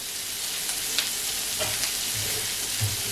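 Onions and garlic sauté in a pan, a steady, fairly loud close sizzle with occasional stirring scrapes and no talking.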